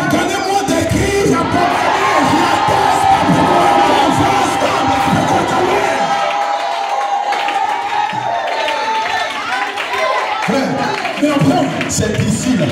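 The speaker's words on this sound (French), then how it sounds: "Si on va ensemble, donnez-moi des cris." A crowd at a Christian worship gathering shouts and cheers loudly and continuously, with a voice over the roar and a slightly thinner stretch midway before the cheering swells again.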